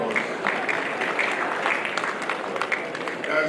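An audience at an annual general meeting of an estate surveyors' institution in Umuahia claps steadily for several seconds, a dense, even patter of many hands filling the hall, with some voices mixed in.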